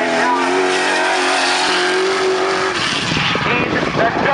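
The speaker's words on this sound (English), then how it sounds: "This is that V8 NASCAR engine." A V8 NASCAR-engined Toyota drift car holds a loud, steady, high rev, then breaks into a rough, noisy tire skid as it slides, with an announcer talking over the engine throughout.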